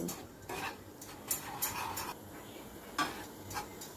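Semolina and milk powder being stirred in a pan, with intermittent scraping and clinking of a spoon against the metal, fairly quiet and close, in short irregular strokes without speech.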